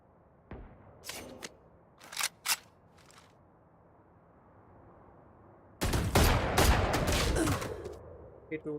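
Game gunfire in Valorant comes as a few sharp separate shots early on, then a dense loud burst of rapid fire near the end, with faint background noise between.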